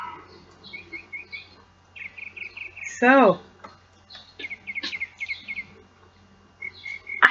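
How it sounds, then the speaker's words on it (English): Birds chirp and tweet outdoors in short bursts, with one louder trilling call near the middle, while a person speaks briefly. "do you hear the birds?"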